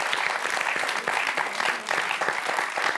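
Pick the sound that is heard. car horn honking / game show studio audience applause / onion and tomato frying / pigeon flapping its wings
game show studio audience applause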